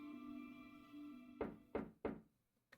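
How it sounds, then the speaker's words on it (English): Knocks on a door in a visual novel game: three sharp, evenly spaced raps, then a lighter fourth tap, heard over a sustained musical tone that cuts off just before the knocking. "Knock knock."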